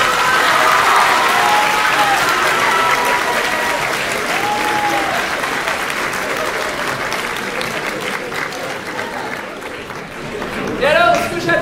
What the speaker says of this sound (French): Et j'aimerais qu'on l'applaudisse même pour ça.